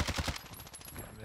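Short rapid burst of AK47 automatic fire in Call of Duty Warzone (Cold War AK47), several quick shots at the start that trail off, fairly faint, with game ambience behind.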